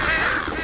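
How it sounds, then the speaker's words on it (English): A crow caws loudly and harshly at close range in Left 4 Dead 2 during The Sacrifice campaign, a brief raspy call with no talking. "Shut up, you goddamn birds!"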